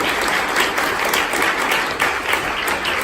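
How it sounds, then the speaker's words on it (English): An audience at a talk-back event applauds with a dense, even wash of clapping that stays loud and continuous from start to finish, with no speech over it. "Another round of applause for everyone here."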